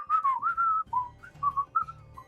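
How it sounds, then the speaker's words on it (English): A person whistles a short wavering tune in several sliding phrases, close and clear, with a low rumble of background chatter beneath it. "They whistle"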